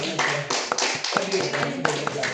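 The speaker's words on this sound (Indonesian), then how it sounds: "Tepuk tangan terlebih dulu untuk teman-teman yang sudah hadir dan sudah belajar bahasa Inggris hari ini." Students in a classroom applaud at the end of an English lesson, a dense burst of many hands clapping at once, with voices mixed in.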